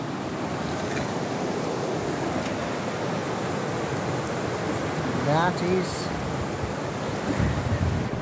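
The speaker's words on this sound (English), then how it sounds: "a river, which I've forgotten the name of" A river rushes through the mountains near Beddgelert in Wales, a constant broadband roar of flowing water mixed with wind buffeting the microphone, while someone speaks briefly over it midway.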